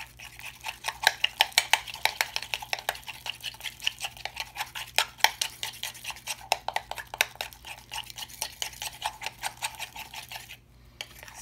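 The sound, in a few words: stirring henna powder and water into a paste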